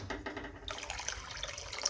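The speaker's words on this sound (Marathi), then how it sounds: "अजून थोडंसं पाणी टाकते मी" Water trickles into a pot of thick, simmering drumstick curry, a soft splashing pour with light gurgling, faint and close, without talk.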